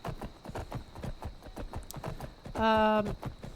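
Horse hooves clip-clop steadily in Skyrim, an even trotting rhythm heard throughout at moderate volume, with a brief bright tonal chime from the game near the end.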